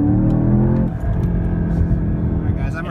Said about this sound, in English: I really like how this car downshifts.